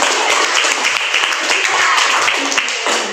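A school classroom gives a round of applause, dense, close clapping from many students filling the whole stretch at even loudness, with a few chattering voices mixed in.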